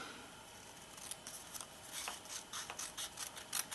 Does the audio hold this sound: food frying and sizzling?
no